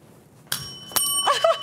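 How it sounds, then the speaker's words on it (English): A bicycle-style bell is rung during a classroom quiz game, two or three sharp metallic dings in quick succession, close and bright over a quiet room. "Has to ring the bell."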